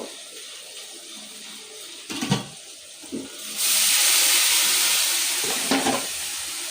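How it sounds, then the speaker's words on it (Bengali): Hot water poured into a pan of spices being cooked down with turmeric, starting with a few soft clinks and knocks, then bursting into a loud, steady hiss of water hitting the hot pan that carries on to the end. "আর এখানে যে গরম পানি থেকে যে পানি দিয়ে দিচ্ছে কষানোর জন্য।"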